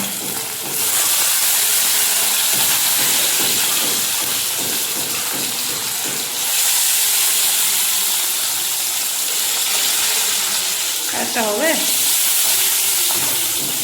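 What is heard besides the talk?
fish frying in oil in a small kadai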